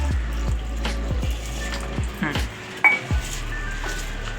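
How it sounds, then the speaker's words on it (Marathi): Khapli (emmer) wheat grains swish and rattle in water inside a metal vessel, with scattered clinks and bumps over a low, constant hum. "आता हे गहू स्वच्छ पाण्याने धुवून घेऊया"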